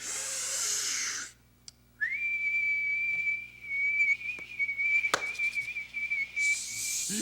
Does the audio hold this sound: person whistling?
yes